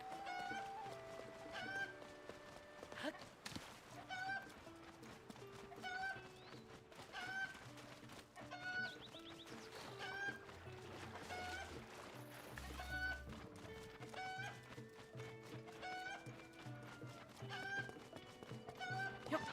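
Repeated short chicken clucks sound at a regular pace over layered game music and effects in The Legend of Zelda: Tears of the Kingdom, with some quiet talking mixed in.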